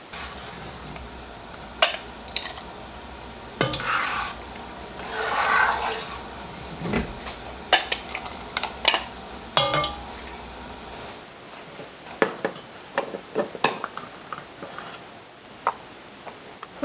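A spoon scoops candied jalapenos from a pot into half-pint glass canning jars, giving irregular metal and glass clinks and taps along with wet, sticky scraping. The sounds are close and there is no talk.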